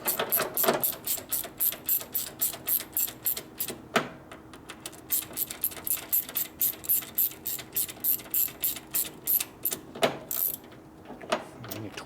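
A ratchet wrench clicks steadily while bolts are torqued down on a Harley-Davidson panhead engine during a rebuild of an FL/FLH motorcycle, rapid rhythmic pawl ticks in close, loud repeated strokes with brief pauses.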